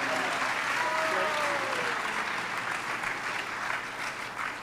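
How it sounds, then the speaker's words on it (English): Audience at a spiritual retreat clapping together in a sustained round of applause, dense and fairly loud throughout, easing slightly near the end, with faint voices mixed in. "let's give them a round."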